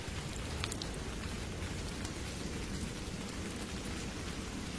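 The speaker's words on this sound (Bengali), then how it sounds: "ঝমঝম করে মুষলধারে বৃষ্টি। পুরো দেখলে তো, বৃষ্টি শুরু হয়ে গেল।" Heavy monsoon-style downpour pours steadily without a break, a dense, even hiss of rain drumming on surfaces with a low rumbling undertone, no voices heard.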